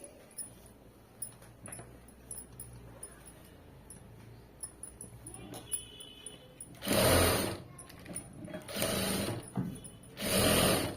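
A household sewing machine stitches fabric neatly in a home setting, three loud whirring bursts of running after quiet stretches of faint mechanical clicks and handling noise.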